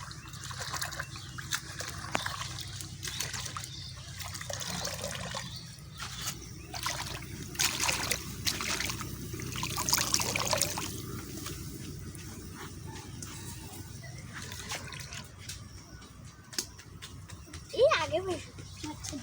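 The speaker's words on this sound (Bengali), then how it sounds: "এই যে আমি এখন এটা ফাইনাল ধুয়ে দিব" Jute greens (pat shak) being rinsed by hand in water in a village setting, with soft trickling, dribbling and light splashes running steadily under a nearby voice talking throughout.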